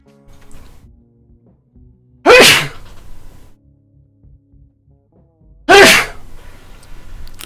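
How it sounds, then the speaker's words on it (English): Two loud, sharp human sneezes, each a sudden explosive burst, about three and a half seconds apart, standing out over quiet game music from the Bastion action game. "I have to sneeze again."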